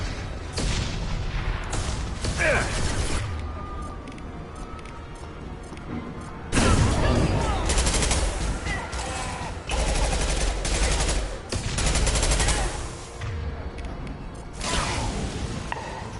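Heavy gunfire from the video game Mass Effect 2 comes in dense, loud bursts and rattling volleys, with booming impacts and crashes throughout and brief lulls between the barrages.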